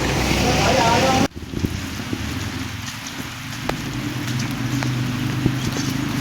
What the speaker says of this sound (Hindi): ये बारिश हो रही है तेज